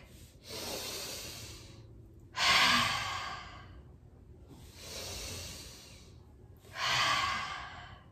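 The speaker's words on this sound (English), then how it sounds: "Let's take a deep breath in." Deep breaths during a yoga session: four long, even breaths alternating quieter inhales with louder, breathy exhales, close and alone with no talking.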